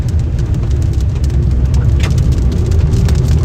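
Heavy rain falls during a severe thunderstorm with a tornado warning, heard as a loud, constant roar with low rumbling drumming on a vehicle while storm chasers drive.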